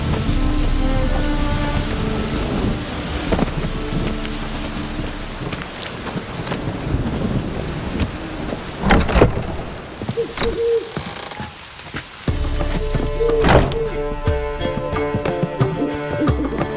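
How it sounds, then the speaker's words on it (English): Rain and rolling thunder in The Witcher 3 video game, a steady wash of rainfall with louder thunder bursts around the middle and again later, mixed with game music and effects and no talking. "Witches have conjured rain again."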